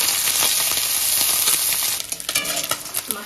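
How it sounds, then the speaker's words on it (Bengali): Fish fries in a pan with a loud, continuous sizzle that turns into uneven crackling and spitting bursts toward the end, close to the microphone with no voices. "আমি মাছটা এখানে ভেজে নিই"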